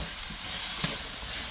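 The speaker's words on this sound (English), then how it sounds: "We're done frying our onions." Onions frying in a pan with little oil, alongside tomatoes and vegetables for a chicken and shrimp stir-fry, give a steady close hiss and sizzle with no talking.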